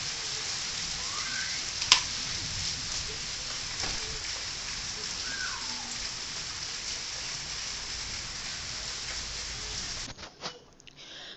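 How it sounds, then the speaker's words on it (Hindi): Heavy rain pours steadily outdoors near a house doorway, a dense continuous hiss with a few faint drips and distant bird calls, cutting off abruptly near the end. "बारिश बहुत तेज़ हो रही है, कैमरे में उतना नहीं पता लग रहा, पर बहुत तेज़ बारिश हो रही है।"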